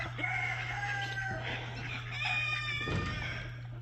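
Backyard chickens clucking and crowing close by, a rooster-like call rising over soft clucks against a steady low hum.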